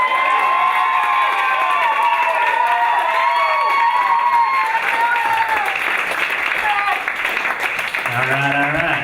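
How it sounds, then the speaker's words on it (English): Applause and cheering from a comedy club audience greet a stand-up comedian, a dense loud wash of clapping and shouts that fades slightly toward the end as music tones and a voice begin. "Big, huge round of applause for Matt Silver"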